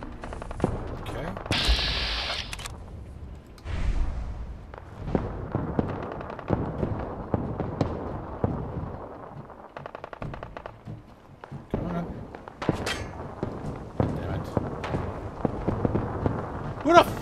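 Rapid bursts of gamma gun fire in Fallout 4 crackle and pop in uneven volleys throughout, moderately loud over constant game noise, with someone talking over the shooting.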